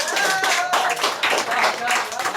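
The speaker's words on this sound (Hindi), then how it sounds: "एक बार ताली हो जाए" Applause in a classroom during a physics lesson, a burst of students clapping loud and dense for a couple of seconds.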